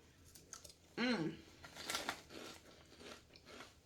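Crunching bites into Kettle Brand air fried jalapeño potato chips, one loud close crunch followed by quieter chewing, with speech faintly present.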